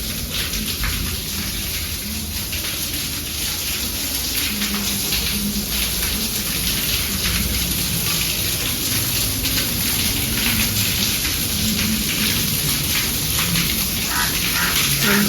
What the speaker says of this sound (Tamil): இயற்கை நினச்சா வந்து இந்த மாதிரி மழை பெய்யும்.